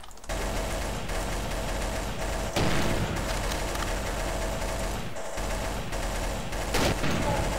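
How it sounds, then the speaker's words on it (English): Heavy video game gunfire, sustained bursts of automatic shots and booming impacts with a few short gaps, loud and close throughout. "I'm being shot at"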